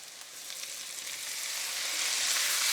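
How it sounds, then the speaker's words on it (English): Green beans go back into a hot pan with bacon fat, sweated shallot and garlic, producing a bright, crackling sizzle that grows steadily louder over a few seconds, close up, with no talking. "the beans go back in the pan."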